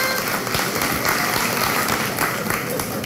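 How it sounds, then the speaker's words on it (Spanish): Studio audience applause during a Puerto Rican live comedy talk show, steady loud clapping and crowd noise throughout the short stretch. "Pero ahora aplauda a los que por lo menos tienen un adorno todavía en la casa de Navidad."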